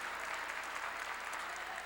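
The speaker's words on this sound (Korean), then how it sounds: "박수로 하나님께 영광을 돌려야죠" A church congregation applauds during a sermon, a dense and steady wash of clapping that holds evenly without pause.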